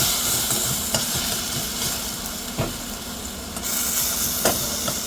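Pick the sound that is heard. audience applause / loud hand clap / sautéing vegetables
sautéing vegetables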